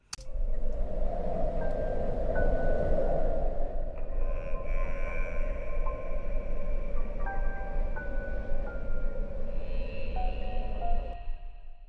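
A steady, whooshing haunted wind sound effect for a horror attraction roars throughout, with eerie high whistling tones drifting in and out over the constant rush.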